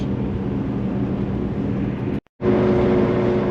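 A Porsche 944 Safari build with a faulty wheel bearing rolls along under a dense, steady road roar. After a brief dropout, a thin, constant whine rides over the cabin noise.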